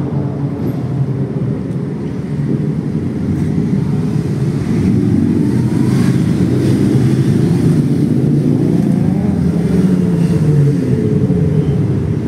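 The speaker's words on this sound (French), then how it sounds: "Il y en a encore le groupe de motards. Ils font beaucoup de bruit." A steady, loud engine roar of several motorcycles, rumbling continuously throughout with rising and falling revs, no voices.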